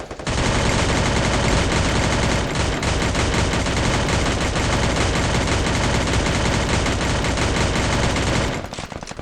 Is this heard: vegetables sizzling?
no